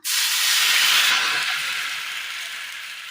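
Second coconut milk poured into a hot pan bursts into a loud, sudden steaming hiss that peaks within the first second and then slowly fades, close and alone.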